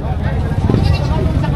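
A Boer goat bleats amid a busy livestock auction, its cries rising over a steady crowd babble and nearby talk.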